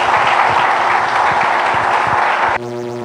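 A church congregation clapping in praise during a service, a steady loud roar of many hands over a rhythmic low musical backing, cutting off abruptly into sustained keyboard tones near the end.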